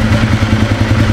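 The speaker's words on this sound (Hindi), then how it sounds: "एक बार चलिए पहले आवाज़ सुनते हैं," Ducati Diavel 1260cc motorcycle fitted with a Yoshimura exhaust, idling close by with a steady, deep, pulsing engine rumble and a slight mechanical clatter, no voices over it.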